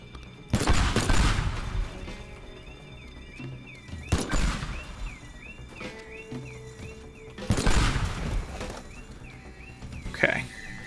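Gunshots blowing up targets in Teardown arrive as three separate loud blasts spaced several seconds apart, each with a booming crack and decaying debris, with quieter game tones in between.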